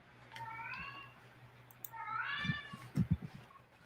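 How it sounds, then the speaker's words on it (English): A cat meows twice, drawn-out and wavering, close by. Low knocks and thumps follow near the end. "Literally, that was the cat meows."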